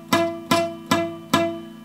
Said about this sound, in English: the more potential you have for a buzzing note